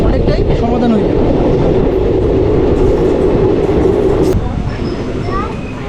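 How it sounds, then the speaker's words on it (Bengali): The 53055 Katwa–Ahmedpur passenger train rolls into Kirnahar station with a loud, steady rumble of wheels and carriages, close by and continuous before easing slightly near the end, with voices talking faintly over it. "একদম রাইট টাইমে কীর্ণাহার স্টেশনে প্রবেশ করলো 53055 কাটোয়া আহমেদপুর প্যাসেঞ্জার ট্রেন"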